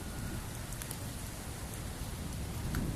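Strong wind and rain, a dense, steady hiss of rainfall with gusty rumble throughout, fairly faint and with no voices.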